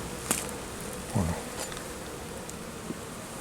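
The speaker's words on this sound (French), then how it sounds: "Ah, cette année, les guêpes, on a été envahis." Wasps at a beehive during feeding give faint, scattered buzzes with a few brief louder passes close by, against a quiet outdoor background.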